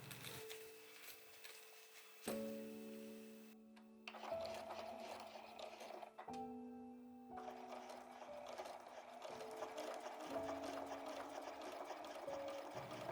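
A domestic sewing machine stitches fabric for a small square patchwork pouch, its motor whirring in steady bursts that stop and restart several times, close and clear, with no voices.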